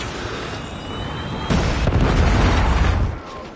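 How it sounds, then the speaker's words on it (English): A Predator missile strikes in Call of Duty Mobile. A heavy, booming explosion lands partway through, then a loud, rumbling roar lingers over faint background game noise. "Predator missile inbound."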